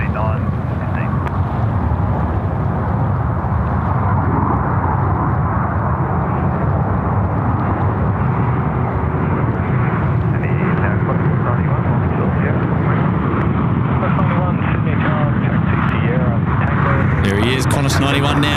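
Qantas 91 airliner at Sydney Airport, a loud, steady jet roar filling the scene throughout, with a voice talking over it and radio chatter mixed in.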